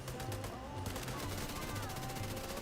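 Gunfire in the shooter video game The Division 2, a dense stream of rapid automatic bursts firing without pause, loud and continuous throughout.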